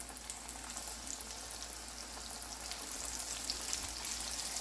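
Steady crackling sizzle of shrimp frying in hot oil, a continuous dense hiss with small pops throughout, close and moderately loud.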